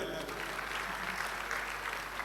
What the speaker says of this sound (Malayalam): ഒരു ക്ലാപ്പ് കൊടുക്കുക എല്ലാവരും